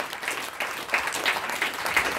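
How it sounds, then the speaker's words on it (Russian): Applause from a concert audience for the artists and composers at a live presentation concert, a steady continuous wash of many hands clapping with no voices over it. "давайте еще раз подарим аплодисменты этим замечательным артистам"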